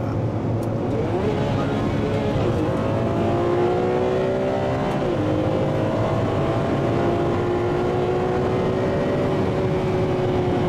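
A Ferrari 599 GTB F1 Fiorano engine droning steadily, its pitch rising and falling as it revs through gears, loud and continuous with no talking.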